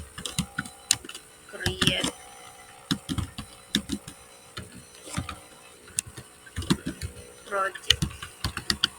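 Typing on a computer keyboard while setting up a Laravel 11 project, with irregular bursts of quick key clicks heard close up, mixed with a person talking throughout.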